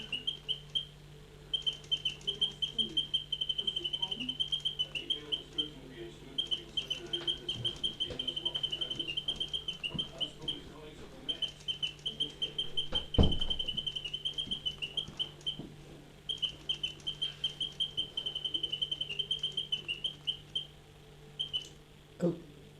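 A mechanical singing bird automaton in a small cage chirps steadily, producing rapid, thin repeated tweets in long runs over a faint whirring mechanism hum, with one brief louder knock partway through.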